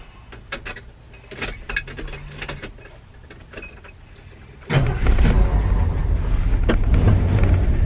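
Keys jingle and click against the newly replaced ignition of a 1981 Ford F100 in a few light, scattered bursts, then a loud, steady rumble abruptly takes over for the rest.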